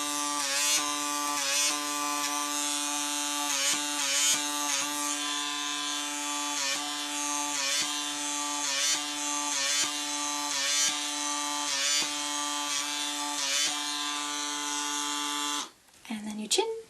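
A PMD personal microderm device running against forehead skin, a close, steady electric buzz with a strong tonal hum that flutters slightly with each stroke, then cuts off near the end.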